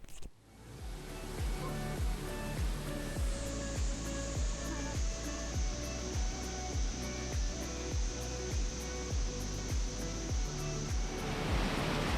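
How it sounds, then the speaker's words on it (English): A steady, dense roar of a waterfall in Wadi Al Shab, Oman, fills the whole clip, broad and constant, with a faint rhythmic thumping underneath. "you can see this beautiful waterfall"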